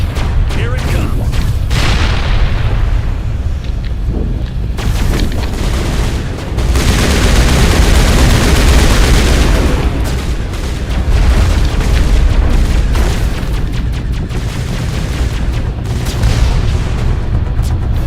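A space explosion in the sci-fi video game Mass Effect, a loud sustained rumbling boom with crackling bursts that swell and roll on for the whole stretch, with voices faintly mixed in.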